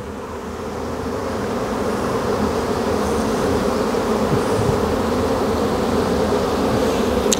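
Honeybees buzz loudly and steadily at close range around a lifted hive frame with stretched wax foundation. The dense hum holds evenly throughout, with no voices.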